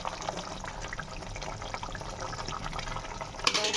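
Yogurt prawn curry (doi chingri) bubbling and sizzling in a pan, a steady busy crackle with a brief louder burst near the end.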